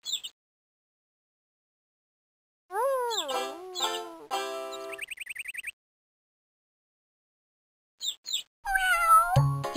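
Synthetic, game-like cat meows sound in several short bursts separated by silence, with a rising electronic trill in between and a louder closing cry, in the PC game Maggie's Farmyard Adventure.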